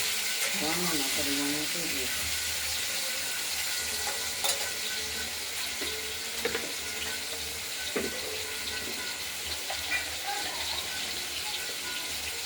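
Potatoes fry in a pan with a little salt and turmeric, giving a continuous moderate sizzle with occasional clinks and stirring, while a voice speaks briefly near the start.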